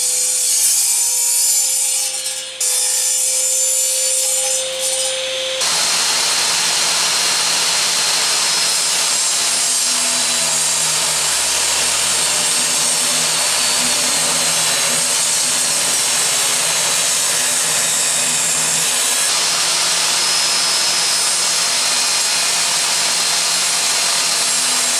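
A power saw cuts through walnut wood in a workshop, a sustained bright whine and rasp that starts near and loud after a brief quieter lead-in and runs steadily to the end, with no talking.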